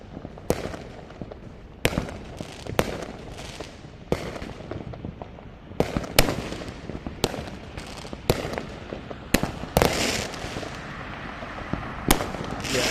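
Residential fireworks going off during a city-wide Fourth of July show, a steady stream of sharp bangs and crackling pops, some near and loud and others farther off, over a constant rumbling background.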